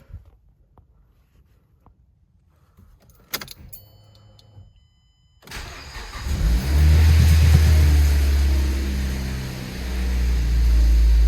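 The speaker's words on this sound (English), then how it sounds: "start the car up." A 2010 Mazda 3 sits quiet at first, with a brief jingle of keys. Its engine then cranks and starts, rising into a loud, steady idle that runs close by to the end.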